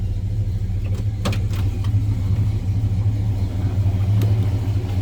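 A 1972 Pontiac LeMans two-door hardtop engine idles close by, a steady deep rumble with slight uneven pulsing and a few faint clicks, no voices.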